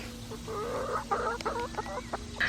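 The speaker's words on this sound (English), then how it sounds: "Oh, we have chickens!" Chickens clucking close by in a steady, chattering series of short calls, with a low hum running underneath and no talking.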